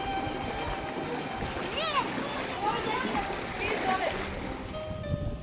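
Fast-flowing floodwater rushes steadily and close by, a continuous broadband roar with splashy texture, while people talk over it throughout.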